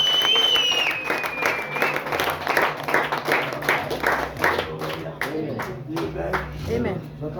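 Church congregation clapping together as an offering: a dense, sustained burst of many hands applauding in a hall, with voices and a sustained tone over it at the start.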